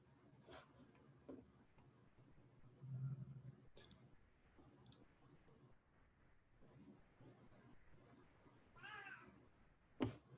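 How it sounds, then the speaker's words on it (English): A house cat meows faintly in the background of a quiet indoor room, a few soft, short calls spread out over several seconds, with sparse clicks and light movement noise around them. "You can hear my cat, as always,"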